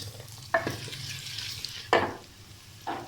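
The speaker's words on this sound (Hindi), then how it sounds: "तकरीबन ब्राउन होने तक हम भूनेंगे।" Onions and spices frying in a pan for a Punjabi chana dal dish give a soft steady sizzle, cut by three sharp stirring scrapes of a spoon against the pan.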